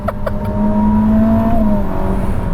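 A Ferrari SF90 Stradale, a 986-horsepower all-wheel-drive hybrid, pulls hard under acceleration, a loud steady engine drone with a rising tone heard from inside the cabin, no talking.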